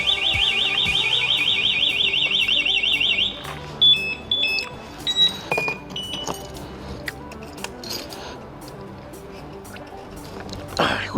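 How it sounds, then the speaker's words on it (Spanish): A motorcycle alarm sounds at a street parking spot, a loud warbling siren that cycles for a few seconds, then breaks into scattered beeps and chirps amid clinks and outdoor clatter. "la moto tiene alarma"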